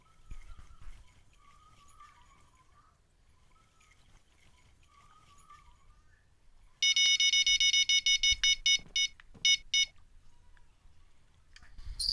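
Electronic bite alarm on a salmon fishing rod rigged with cut bait, sounding a loud rapid series of piercing beeps in bursts midway through, over quiet outdoor background.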